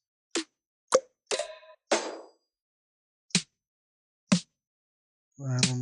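Snare drum samples play one at a time: seven short, sharp hits separated by pauses of silence, the last one ringing a bit longer.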